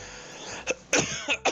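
Several short, sharp coughs from one person close by, coming in quick uneven bursts against a quiet background.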